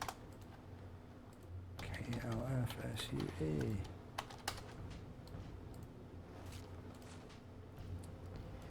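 Computer keyboard typing in an online game, with a voice spelling out letters over scattered key clicks and a steady background hum; the clicks are sparse and partly buried under the speech.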